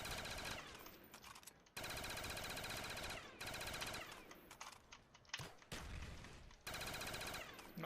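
Constant rapid automatic gunfire in Call of Duty Black Ops zombies fills the clip with dense repeated bursts and brief pauses, loud and close, with no talk over it.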